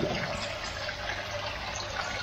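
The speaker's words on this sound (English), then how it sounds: "the water has reached the top here and it's just overflowing there" Water overflows the top of a grow bed in a newly set up aquaponics system, giving a steady, even rushing and trickling wash that runs continuously, close by, with no one speaking.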